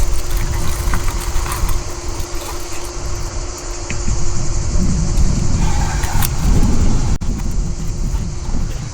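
An RC4WD Bully 2 or Extreme Route W3 RC crawler truck grinds over rocks, its motor whirring steadily with a constant hum and scrabbling, rumbling texture that swells midway, close and fairly loud throughout.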